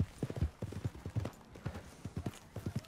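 Horse hooves clip-clopping in Red Dead Redemption 2, a quiet, fairly close run of rhythmic hoof strikes in small irregular clusters, with no talk over them.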